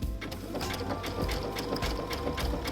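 A sewing machine works a dense satin stitch along a raw-edge applique shape, its rapid needle chatter loud, close and continuous throughout.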